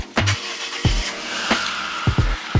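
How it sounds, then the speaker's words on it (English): A Nissan 350Z convertible with a bad misfire warms up, its engine running with a steady idle broken by several sharp thumps and pops at irregular intervals, close and fairly loud, with no talking. "Now we let the car warm up."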